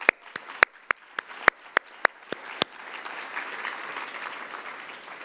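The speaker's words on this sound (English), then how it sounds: "I think we should give her a round of applause" At a women's innovation awards event, a few sharp, separate claps ring out near and distinct, then blend into a softer, steady round of audience applause that carries on to the end.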